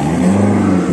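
A race car at a drag-racing speed event blasts past while accelerating, its engine a loud, close, sustained roar with a steady droning tone, heard on its own.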